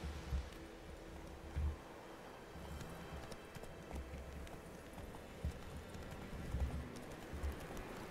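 Horse hooves clip-clop at a gallop in The Witcher 3: Wild Hunt, a steady rhythmic pounding over rustling ambient game sound, close and moderately loud, with no talking.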